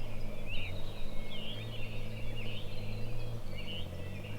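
A winter wren sings at dawn in the Adirondacks, its high rapid trills and chattering bursts repeating over a low, steady background hum of the campsite.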